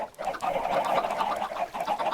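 Chickens in a video game chicken farm cluck repeatedly in a busy, overlapping chorus, close and fairly loud, with short bursts of clucks following one another without pause.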